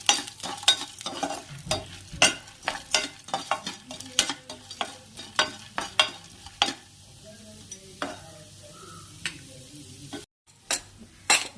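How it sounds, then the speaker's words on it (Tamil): Chana dal dry-roasts in a pan over a slow flame, stirred with quick, repeated scraping clicks that come in uneven rhythm, close and fairly quiet, with no talking over them. "கடலைப்பருப்பு ஸ்லோ ஃப்ளேமில் நல்லா வறுத்து எடுக்கணும்."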